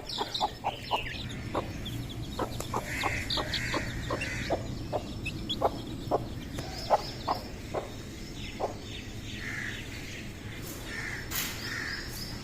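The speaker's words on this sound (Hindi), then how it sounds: "इस साइड हमारी मुर्गी जो है वो टोकरे के नीचे बैठी है, उसके बेबी जो है वो भी साथ ही हैं" A hen with her chicks, kept under a basket, clucks in repeated short calls with faint high peeps scattered through, steady and fairly quiet with no talking.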